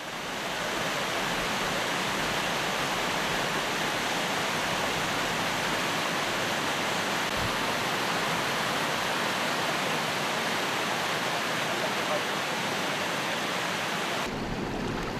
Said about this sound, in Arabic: الأفلاج هي الأخرى فاضت جداولها ونضحت بمياهها في ربوع المحافظة